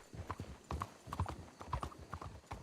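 Horse hooves clip-clop in steady galloping rhythm while a rider travels on horseback in a Western roleplay video game, the hoofbeats close and clear over a low background.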